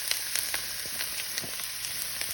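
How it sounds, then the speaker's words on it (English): Onions frying in a pan for a homestead chicken bog, giving a steady sizzling crackle with soft scattered pops and occasional stirring sounds, moderately quiet and with no voices. "Onions are getting brown around the edges and they're done."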